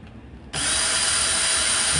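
A power drill or driver unscrews the screws of a ceiling fan mounting bracket from a ceiling junction box. After a short quiet start its loud, steady whine begins and carries on to the end.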